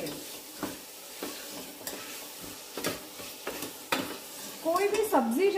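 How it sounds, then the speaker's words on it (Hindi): Soaked kidney beans (rajma) frying over a low-to-medium flame while a spoon scrapes and stirs them around the pan in repeated strokes, a steady sizzle underneath and a squeaky scrape near the end. "और राजमा डालने के बाद हम इसे लो टू मीडियम फ्लेम पर 4-5 मिनट के लिए भूनेंगे"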